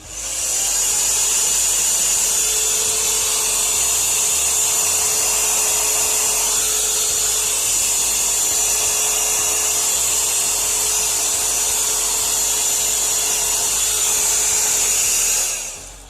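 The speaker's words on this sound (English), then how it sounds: "Alright, I got the heat gun now. And it's gonna be a little loud." A heat gun shrinks shrink wrap around a card box, blowing as a loud, steady, high-pitched whirring drone that holds for about fifteen seconds and then cuts off.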